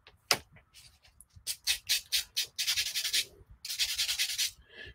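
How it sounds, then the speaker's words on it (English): Sanding sticks rub across plastic model seams and mold part lines in a quick series of close, scratchy strokes, then two longer sustained passes, with no talking. "these sanding sticks make really short work of dealing with seams, mold part lines."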